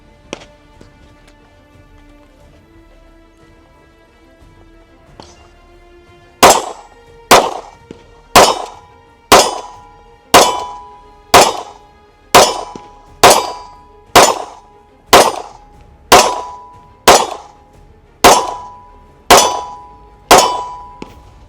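A handgun fired at steel targets from 30 feet, around sixteen sharp shots in a steady rhythm, each followed by a bright ringing metallic clang, preceded by a faint hum.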